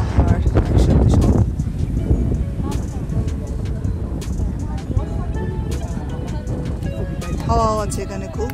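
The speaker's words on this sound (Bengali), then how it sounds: "হাওয়াও আছে এখানে খুব।" Strong wind blows across a hilltop temple compound in Shimla, a low gusty rumble buffeting the microphone, loudest in the first second and a half and then steady, with people talking over it.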